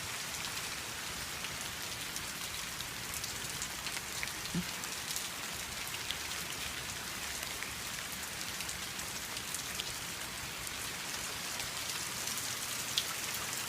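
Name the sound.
rain falling at night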